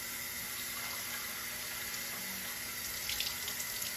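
Tap water runs steadily into a cup while measuring water for cooking rice, a continuous close splashing stream with no talking.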